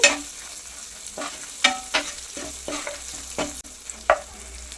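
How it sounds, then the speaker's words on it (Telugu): Okra fry cooks in a pan with lemon juice, as repeated spatula strokes scrape and clack rhythmically over a moderate background sizzle. "బెండకాయ ఫ్రై అనేది జిగురుగా ఉండదండి బాగా ఫ్రై అయి ఫ్రై అవుతుందండి"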